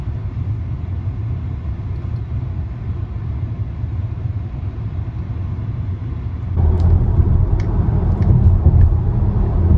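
An electric vehicle driving on a road through northeast Ohio gives a steady low rumble of tyre and road noise from inside the cabin, which grows slightly louder partway through with a few faint clicks.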